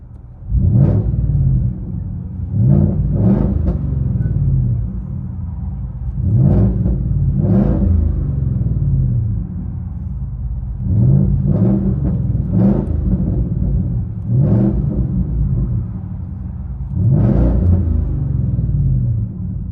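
A 2017 Ford F-150 with a 5.0L Coyote V8 and straight pipes, true dual 2.5-inch exhaust and an X pipe in place of a muffler, idles with a loud deep rumble and is revved in repeated sharp bursts, up close.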